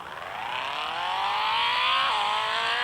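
A car engine revving in the Extreme Car Driving Simulator video game on an off-road track: a loud, steady rising whine that climbs in pitch, briefly drops as if shifting, then holds high, with no talking.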